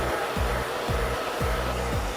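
A hair dryer blowing into curly hair at the roots gives a loud, continuous close whir, with its low hum dipping and rising about every half second as the hair is pinched and lifted.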